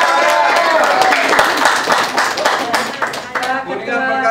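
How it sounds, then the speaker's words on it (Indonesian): A crowd at an Indonesian political party gathering claps loudly and briskly, dense overlapping hand claps with a few sharper individual claps that thin out and fade near the end. "tepuk tangan dulu untuk semuanya."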